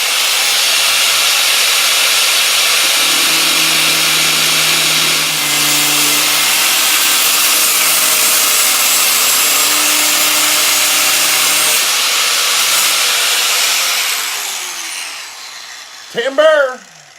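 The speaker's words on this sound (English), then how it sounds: "Got my grinding wheel. I'm gonna grind this bitch off." A grinding wheel cuts through the main shaft of an EC 145 Monster Energy scale RC helicopter, producing a loud, steady abrasive roar with a faint motor hum beneath. It runs unbroken for about fourteen seconds, then tapers off and ends with a brief voice.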